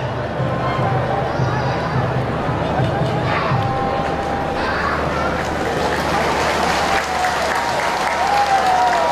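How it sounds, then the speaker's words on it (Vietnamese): A large stadium crowd applauds the Vietnam U23 starting attackers at an AFC U23 Cup football match against South Korea, sustained loud clapping and crowd noise throughout, with a commentator's voice faintly mixed in. "Trận vỗ tay dành cho bộ đôi cầu thủ tấn công của đội tuyển U23 Việt Nam trong đường xuất phát"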